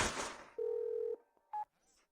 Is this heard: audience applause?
no